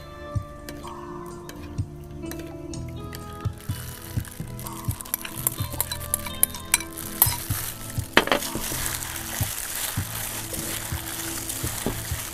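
Oil is stirred into a marinade mixture for grilled pork, making soft, close scraping and clicking sounds in an irregular rhythm. A faint background hum runs underneath, and no one talks.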